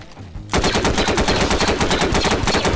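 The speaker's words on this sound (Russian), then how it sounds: "Я по нему стреляю, Димас." Rapid automatic gunfire from a Garry's Mod video game starts abruptly and continues as a steady, loud, close stream of shots.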